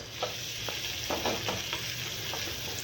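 Chicken spring roll filling is stirred in a hot pan. A spatula scrapes and knocks in irregular strokes over a steady, quiet background sizzle of frying.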